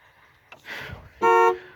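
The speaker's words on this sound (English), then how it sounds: "Horn works fantastic." A car horn gives one short, loud honk near the end, after a few soft clicks and rustles inside the vehicle.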